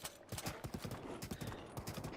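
Horse hooves clip-clop at a trot in Zelda: Breath of the Wild, a quick irregular run of soft thuds over a constant background bed, fairly quiet, with no speech.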